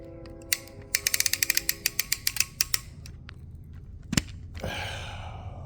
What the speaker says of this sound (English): I guess you can watch me take the ratchet lid off